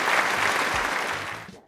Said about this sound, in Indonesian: Sekali lagi beri tekan tepuk tangan untuk Helia